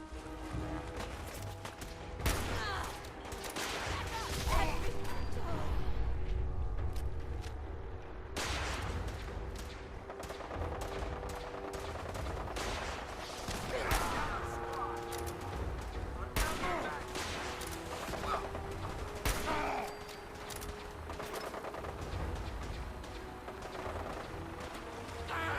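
Gunfire from the video game Fallout 4 rings out across a firefight. Sharp shots and bursts crackle repeatedly over a droning background, some loud and close, others more distant, with in-game voices and noise under the shooting.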